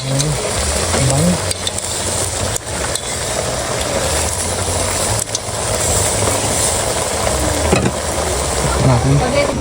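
Native chicken simmering in coconut milk for adobo is stirred in a kawali, repeated scraping strokes over a constant loud sizzle, with a faint engine-like rumble beneath and occasional speech.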